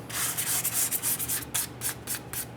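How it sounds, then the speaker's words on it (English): Brake shoes being scuffed by hand with 400 grit sandpaper on a Chrysler 300 rear brake: quick, soft rhythmic rubbing strokes, close and fairly quiet, with no talking. "I'm just going to use a little bit of sandpaper here, and I'm just going to gently scuff these just to clean them"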